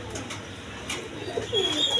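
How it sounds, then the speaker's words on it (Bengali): Large pigeons coo softly close by in a loft, with a few low, throaty calls over quiet background noise. "দেখেন কবুতর দেখার মতো কবুতর, একদম বিগ সাইজের কবুতর"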